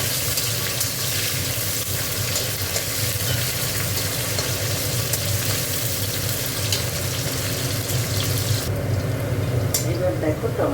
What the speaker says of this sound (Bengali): তাই এবার একটু ভেজে দিচ্ছি।